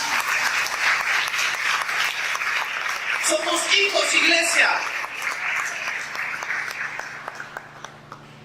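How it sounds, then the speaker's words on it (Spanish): Church congregation applauding during a worship service, a steady wash of clapping that swells in the middle and thins to scattered claps at the end, with a voice speaking over it. "Dale un aplauso a Dios entonces."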